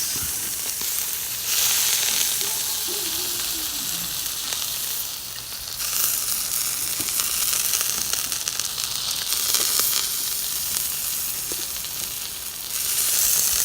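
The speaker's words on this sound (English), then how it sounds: "Of course you gotta toast your buns." Burger buns toast on a Weber Smokey Joe charcoal grill, giving a loud, continuous close sizzle and hiss that swells and eases in waves, with no talking.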